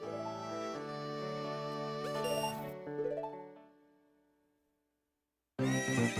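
A horse neighs in the Zelda: Ocarina of Time video game, a bright whinny layered over game music and chimes that fades to silence before the music returns abruptly.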